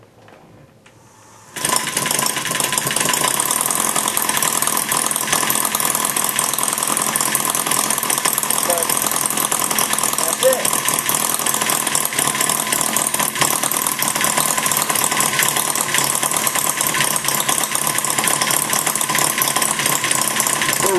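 Maier TA4 small engine starts abruptly and then runs steadily at a constant buzzing pace, loud and close, with no pause until the fuel runs out.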